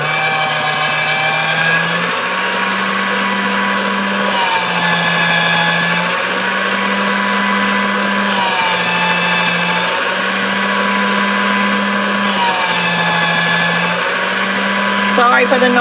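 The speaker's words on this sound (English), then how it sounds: "I love my motor on my pasta machine." A motorized pasta machine rolls polymer clay with a steady loud motor whine and grinding hum, rising and falling in a regular cycle every couple of seconds, with a short clatter at the end.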